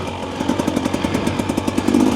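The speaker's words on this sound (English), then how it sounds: "The TBI engine to me compared to the TPI that I had, it just feels way better" Husqvarna TE300 TBI two-stroke enduro motorcycle engine running steadily while being ridden on a slow track, a close, continuous buzzing drone with rapid rhythmic pulsing and no talk.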